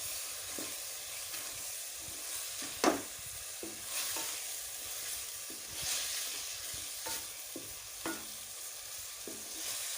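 Chicken macaroni with potatoes frying over medium heat, a soft steady sizzle with periodic stirring scrapes every second or two, close but fairly quiet, no talking.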